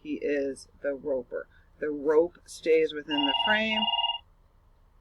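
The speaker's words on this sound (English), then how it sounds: "Sorry about my phone ringing." A mobile phone ringing with a warbling electronic tone near the end, following a man lecturing on cinematography whose speech dominates the first part.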